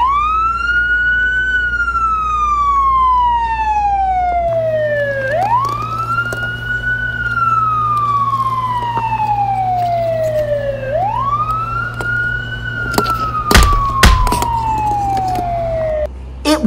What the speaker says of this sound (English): do you have a siren on that thing?